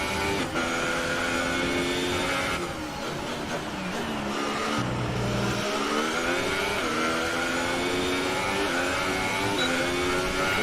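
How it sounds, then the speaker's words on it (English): A Ferrari Formula 1 car engine in F1 2018 races at Circuit Gilles Villeneuve, a loud, continuous high-pitched whine that rises and falls with revving and gear changes, with a second engine note layered close behind. "Hear that Ferrari behind me getting closer."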